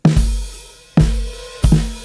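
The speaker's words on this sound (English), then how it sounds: "like this kind of flammed mess?" Drum kit drag played sloppily, the snare grace notes, main snare, bass drum and hi-hat smeared into flammed hits: three loud, close strikes with doubled attacks and cymbal wash between them, no voices.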